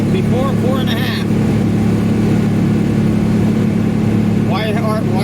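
A vehicle engine held at high RPM while merging onto a bypass near Jacksonville, a steady loud drone filling the whole stretch, with bursts of voice and birdlike chirps near the start and end.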